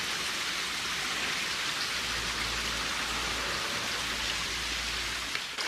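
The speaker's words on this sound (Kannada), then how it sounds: "ಅಲ್ಲಿಂದ ನೀರು ಹೀಗೆ ಕೆಳಗಡೆ ಹೋಗ್ತಾ ಇದೆ" Continuous rushing water flowing down from a tank, a steady broadband wash like flow pouring down, close and constant throughout.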